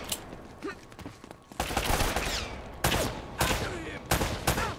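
Bursts of AK rifle fire in the video game Uncharted, loud clustered volleys that come in several separate waves with short gaps between them, under faint background sound.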